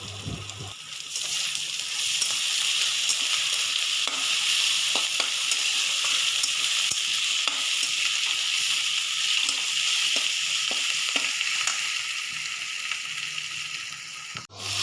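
Ginger, garlic and chillies fry in a pan with a continuous loud sizzle and crackle, broken by occasional stirring scrapes, steady throughout and then cut off abruptly at the end.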